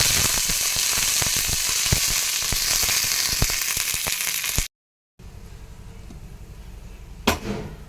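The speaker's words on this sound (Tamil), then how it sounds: "கடுகு போட்டு பொரிஞ்சதும் கடலைப்பருப்பு போட்டுருங்க" Mustard seeds, chana dal and curry leaves fry in hot oil for a potato kootu, giving a loud, dense crackling sizzle with sharp pops, then a brief cut and a quieter low sizzle.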